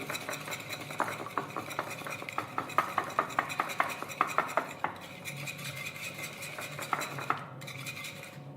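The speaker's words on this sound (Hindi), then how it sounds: "एक दूसरी प्लेट में हम अंडे फेंट के रख लेंगे।" Eggs being beaten in a plate for dynamite chicken, a quick run of clinking utensil strikes against the dish, steady and close, then slower scattered taps as the whisking eases off.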